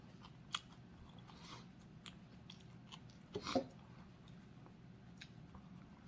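Someone eats Thai spicy noodle salad with grilled sticky rice, fresh vegetables and pork crackling, giving faint close crunches and bites, with a louder cluster of crisp crunches in the middle over a quiet room.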